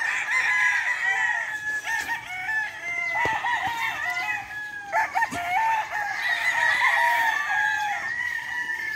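Roosters and hens in a breeding pen of brood cocks crow and cluck repeatedly, with several overlapping calls at close to mid distance, steady and fairly loud throughout, with no talking.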